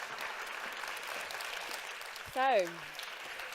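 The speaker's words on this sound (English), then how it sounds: "I think we should give all of our panelists a massive round of applause" Applause fills the room at a startup pitch competition finale, a steady wash of many hands clapping that runs throughout, with a brief spoken word and a short whistle-like tone rising over it near the end.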